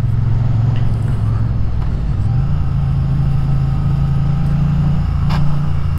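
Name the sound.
Triumph Bonneville T100 motorcycle riding through tight bends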